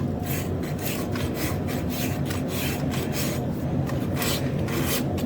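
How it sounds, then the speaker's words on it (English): A farrier rasps the heel of a horse's hoof during a full shoeing, giving steady, close, continuous scraping strokes in a rough rhythm with no talking. "Sometimes I just like to go ahead and just rasp my heel"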